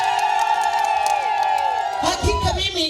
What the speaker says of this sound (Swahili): Ninaomba tumpongeze kwa makofi na vigelegele.